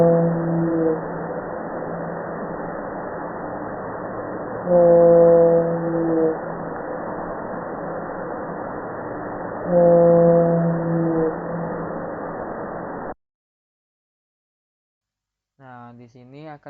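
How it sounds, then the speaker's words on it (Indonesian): A whale sound recording played back: a low, steady trilling tone with periodic louder pulses runs for about thirteen seconds, then after a short silence a brief rising moan tone follows. "di sini akan terdengar bahwa bunyi nada A trilili diikuti oleh bunyi nada B moan"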